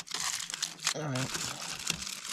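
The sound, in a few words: thin tin foil being crinkled while double wrapping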